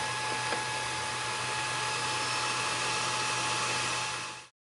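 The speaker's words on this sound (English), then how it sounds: "when I turn on the fan on my Maker Gear printer, you can definitely hear the fan turn on." Cooling fan on a MakerGear 3D printer running with a steady, even whir and faint tonal hum, close and continuous for several seconds before cutting off abruptly.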